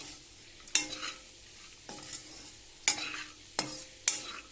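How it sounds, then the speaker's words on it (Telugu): Dried lentil vadiyalu fried with onions in a pan, stirred in five separate scraping strokes over a soft, steady sizzle, close and moderately loud with no voices. "చక్కగా ఉల్లిపాయకి వడియాలన్నీ కలిసిపోయి చక్కగా ఉప్పు కారం అన్నీ కలిసేటట్టు వేపుకోవాలి"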